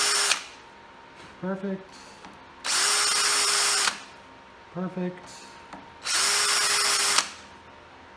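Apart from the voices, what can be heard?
power drill drilling a start hole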